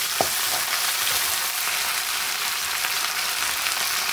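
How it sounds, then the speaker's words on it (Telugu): Chicken sizzles steadily in hot oil after ginger garlic paste goes in, a dense continuous frying hiss close by with a brief stir or clink near the start and no talking. "అల్లం వెల్లుల్లి పేస్ట్ అయితే వేసేద్దాం"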